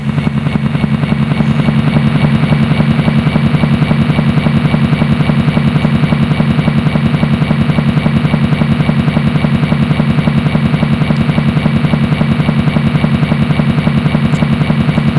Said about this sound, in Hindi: अभी खबर मिली है कि बापूजी अपनी लाठी टेकते हुए हेलीकॉप्टर में बैठे आ रहे हैं।